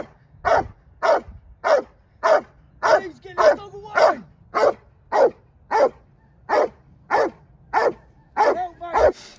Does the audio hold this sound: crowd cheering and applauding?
no